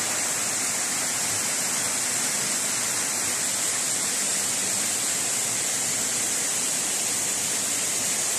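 Water flows steadily near a small hill, a loud, constant broadband rush like a stream or small waterfall, close by with no pauses.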